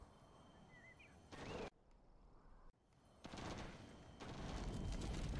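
Gunfire and explosions from a battle in the real-time strategy game Command & Conquer Generals Zero Hour, with a dense broadband crackle of fusillade bursts that surge, cut out abruptly, then return louder and continuous.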